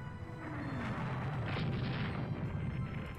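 Heavy naval gunfire from a warship's broadside in the naval strategy game Rule The Waves 2, a dense sustained rumble of booming shots with no talk over it.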